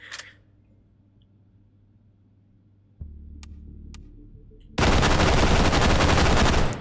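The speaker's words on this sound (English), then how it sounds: "this is the HK51, right?" An HK51 rifle in the Hot Dogs, Horseshoes & Hand Grenades VR game rattles off a loud, sustained automatic burst of about two seconds, following a few quiet mechanical clicks and a low hum.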